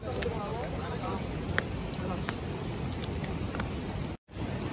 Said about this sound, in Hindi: और बहुत ही बारिश, मौसम बड़ा ही खराब।